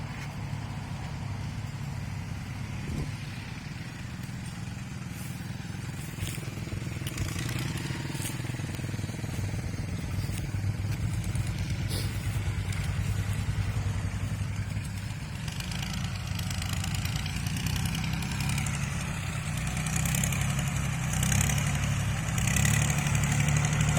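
An Iseki tractor engine runs steadily with a homemade rake while clearing overgrown weeds in a cassava field, a continuous loud rumbling drone that varies slightly in pitch, with no talk.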